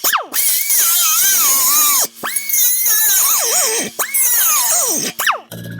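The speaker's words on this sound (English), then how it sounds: "So I'm going to be using a circular cut-off wheel at a precarious angle." A circular cut-off wheel slices through the exhaust flex pipe on a Dodge Grand Caravan, giving a loud, high whine that rises and falls in pitch across several bursts with short pauses between them.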